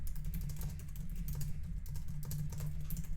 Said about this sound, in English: It was very fast typing.